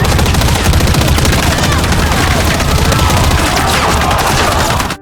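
Rapid, sustained machine gun fire from a film scene, loud and continuous bursts rattling for the whole stretch with no let-up.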